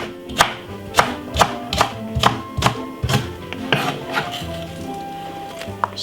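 Knife chopping spring onion very small on a board in a home kitchen while making chicken curry, a quick run of sharp, close taps, loud and steady, that loosens and slows toward the end with no talking.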